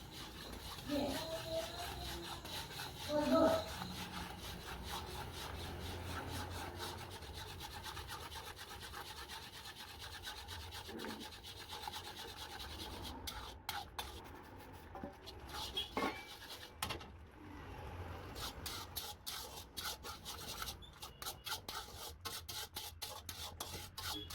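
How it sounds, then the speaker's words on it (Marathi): A spoon scrapes and rubs against a pot as semolina (rava) is gradually stirred into upma, a soft continuous rasping at low level with faint clinks, lasting throughout. "हळूहळू रवो घालायचो आणि ढवळून घ्यायचा"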